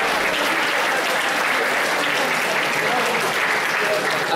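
A school audience at a Polish school event in Zbąszynek claps continuously, a dense, steady wash of many hands filling the hall at an even loudness throughout.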